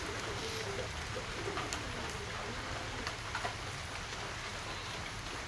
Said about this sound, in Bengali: তো দেখো একটু পরে তো বৃষ্টি, সেই বৃষ্টি চলেই এলো।